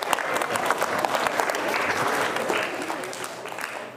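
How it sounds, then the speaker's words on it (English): Steady applause from a school audience fills the space after a student answers a question about Sikhism, dense clapping holding evenly throughout before easing slightly near the end. "Round of applause"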